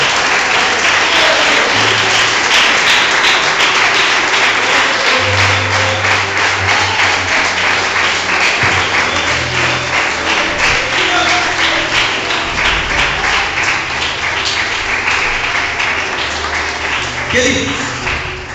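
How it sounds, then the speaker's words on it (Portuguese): Congregation applauding in a church service, sustained loud clapping from a large crowd with a low hum of voices and some musical tones beneath it. "Aplauda o Senhor e glorifique a Deus."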